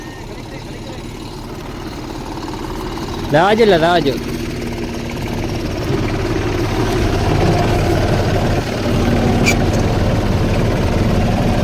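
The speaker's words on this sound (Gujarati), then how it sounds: "એટલે આપણે હવે ટ્રેક્ટર હાંકવાનું છે." A tractor engine idles with a steady low, heavy rumble that runs unbroken through the whole stretch, while voices speak close by over it.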